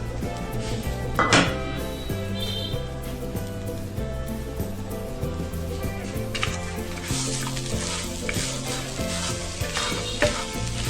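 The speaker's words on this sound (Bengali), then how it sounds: "এটা আমি হালকা আছে নেড়ে ছেড়ে গুড়টা গলে গিয়ে মাখা মাখা হওয়া পর্যন্ত রান্না করব, ভেজে নিব" Jaggery melting and frying in a pan with bay leaves, cardamom and cinnamon for coconut puli pitha, a loud continuous sizzle with intermittent stirring scrapes and light clatter over faint background music.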